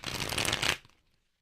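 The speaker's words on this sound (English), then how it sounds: "So let's go ahead and clarify these cards." A deck of tarot cards riffled in one quick close burst, a dense crackling shuffle lasting under a second before it stops dead.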